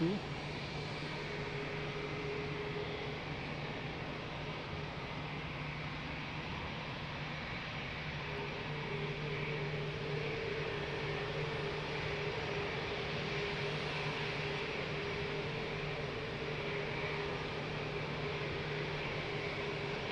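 A Boeing 777 airliner taxiing at Lisbon Airport toward the runway hold point, a steady low jet-engine whine and broadband roar holding constant and moderately distant throughout, with no talk.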